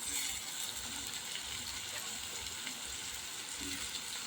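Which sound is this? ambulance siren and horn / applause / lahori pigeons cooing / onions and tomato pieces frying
onions and tomato pieces frying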